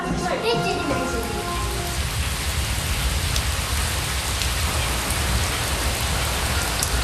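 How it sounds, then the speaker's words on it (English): Steady, dense rain pours down over a Himalayan stone tower, a constant close hiss of drops on surfaces with a voice briefly heard at the start. "One should never enter the towers when it rains."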